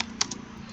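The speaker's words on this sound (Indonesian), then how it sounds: "kita ketik HTML, enter, kita ketik head, enter, kita ketik title" A computer keyboard clicks a few times as HTML code is typed, with two or three close, light key taps over a steady low hum.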